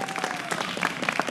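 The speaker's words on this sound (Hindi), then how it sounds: "तालियां बजा दें मेरे लिए" Studio audience applause on a Pakistani cricket talk show during PSL 6, a steady patter of many hands clapping at moderate level with no voices over it.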